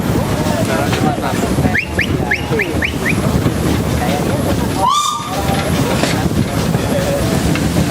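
Steady rumble and rattle of a train rolling along the rails through a teak forest, with a short series of rhythmic clicks and a brief high squeal midway.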